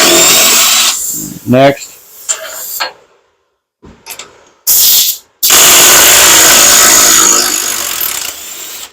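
An impact wrench works on an engine head bolt, with loud rattling hammering bursts broken by gaps and a brief spoken word; a long sustained run fills the final stretch.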